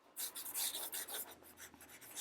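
A pencil scratches across paper in quick, sweeping strokes for a fast gesture drawing of a glue gun, with short bursts of bright rasping close by and fairly faint, no speech.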